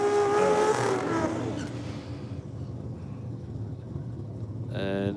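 A green Nissan R32 GTR at Sydney Dragway gives off a loud engine roar that fades and settles to a rumbling idle, with a squeal near the start and a voice speaking over it.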